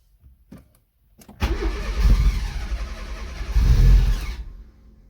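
A Fiat Cinquecento Turbo engine is heard close up: a few faint clicks, then the engine cranks and catches and runs roughly, rising into a revving surge before it dies away.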